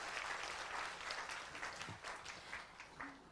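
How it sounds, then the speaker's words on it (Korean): Audience applause at a venture business forum after a short pitch presentation, a fairly faint, even patter of many hands clapping that tapers slightly toward the end. "박수로 마무리할게요"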